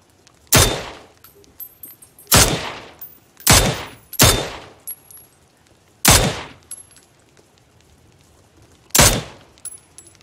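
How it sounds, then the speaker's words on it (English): Gunfire in the video game PUBG: six separate sharp shot bursts spaced irregularly over quiet background, each loud and abrupt with a quick decay. "I'm just shooting a desecrated corpse at this point."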